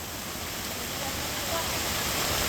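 Heavy pouring rain falls during road tarring on Mara Road in Thrissur, a dense steady roar that fills everything from near to far and rises slightly toward the end.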